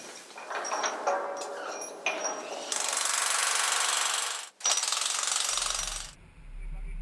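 A power tool rattles in hard, fast bursts while tightening bolts on a wind turbine at the Salkhit wind farm, with short ticking runs, then a long sustained hammering burst with a brief gap, ending with a low rumble.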